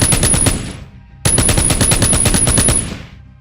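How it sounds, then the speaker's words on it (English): Chain gun sound effect built for a video game, firing two loud rapid bursts of mechanical shots with a short gap between them, each burst fading out in a tail. "chain gun"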